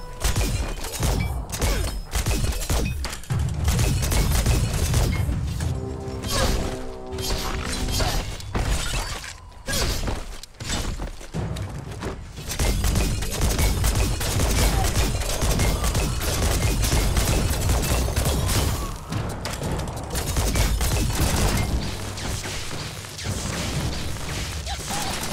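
Shooting in the video game Biomutant, dense bursts of rapid gunfire and shattering impacts that go on for about twenty-five seconds, loud and nearly continuous with only brief lulls.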